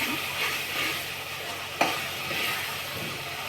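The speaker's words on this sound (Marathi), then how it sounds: "अशा प्रकारे आपला मसाला शिजत आहे. आणि आता हे जेव्हा होत येईल चांगलं होऊ द्यायचं याला, खमंग भाजायचं आहे" Masala for a brinjal curry roasts in a pan with a steady medium sizzle. One sharp scrape or tap breaks it midway.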